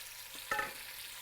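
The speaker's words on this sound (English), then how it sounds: "all we're doing right now is browning that meat." Pre-cut stew meat browns in a pan with a quiet, steady sizzle and a brief stirring scrape midway.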